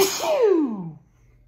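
A single person's sneeze: a sharp breathy burst that slides into a falling voiced tone, then quiet, heard alone and close.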